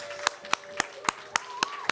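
One person claps slowly and steadily, about seven sharp claps spaced roughly a quarter-second apart, at a faculty presentation, while a faint sustained tone runs underneath.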